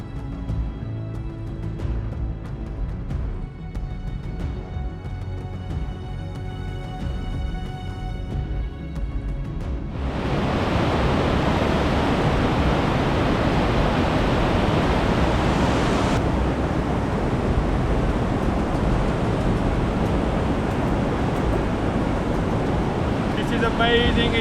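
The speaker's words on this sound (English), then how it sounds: "Amazing, it's the stream." Glacier meltwater stream rushing along the trail to K2 Base Camp in Pakistan, a loud continuous broadband roar that jumps up sharply partway through as the stream comes close, with quieter tonal background before.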